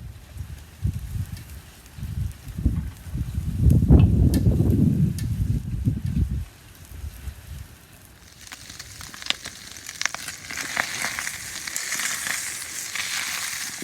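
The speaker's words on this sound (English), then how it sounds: "We're waiting for that meat to kind of sear at the bottom of the pan a little bit." Meat sears in a pan on a kettle grill while loaded potatoes are prepared, giving a steady close sizzle that swells for a few seconds and then drops away. Brighter, crackly hiss follows toward the end, with no talking.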